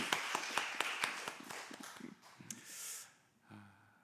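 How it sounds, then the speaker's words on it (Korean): Scattered clapping from a church congregation during a Sunday morning service in Busan, a brief burst of sharp claps that thins out and fades after a couple of seconds. "격려의 박수를 한번 올려드리겠습니다."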